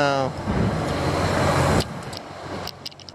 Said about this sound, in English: We got another transport truck with cement on the trailer